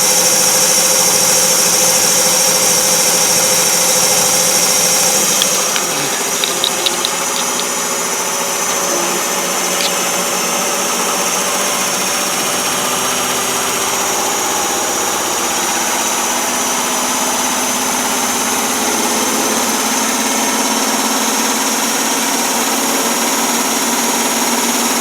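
GE Profile washer/dryer combo running after a door seal gasket replacement, with a loud, steady mechanical drone and vibration heard close from floor level, continuous and unchanging throughout, with no talking.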